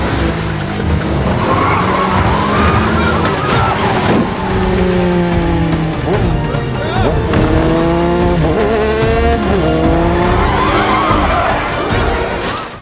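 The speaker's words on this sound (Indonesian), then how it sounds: "David langsung membajak motor warga dan mengejar mobil Ligan" A motorcycle chasing a car through a crowded street in a film chase scene: revving engines that rise and fall in pitch and screeching tires sound loud and unbroken for nearly the whole stretch, ending abruptly.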